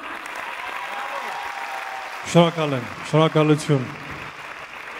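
A concert audience gives continuous applause for a singer, a steady wash of clapping under a man's brief spoken thanks.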